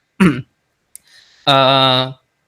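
One sharp cough up close after choking, then a brief pause and a strained, voiced throat-clearing rasp.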